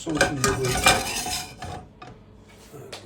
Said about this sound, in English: Tip it in our saucepan